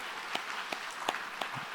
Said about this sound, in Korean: 감사와 격려 박수 한번 다시 해주시기 바랍니다.